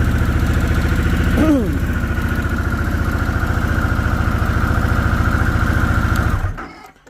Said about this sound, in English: with this bike is you really want to let it warm up